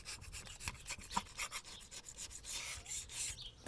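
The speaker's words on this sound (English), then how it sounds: "I'm taking a razor. I'm cleaning off this old gasket material." A razor blade scrapes old gasket material off the housing of a Farmall 460/560 tractor during a hydraulic oil change, making a series of short, dry, rasping strokes at close range with no talking.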